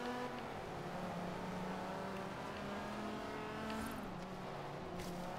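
A race car in Forza Horizon 3 drones at steady high revs, engine harmonics sliding up and down through corners with a brief shift near the end, loud and unbroken, no talk.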